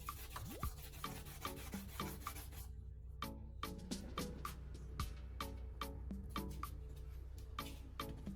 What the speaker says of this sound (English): If you scrub too hard, the plastic surface can become unevenly scratched.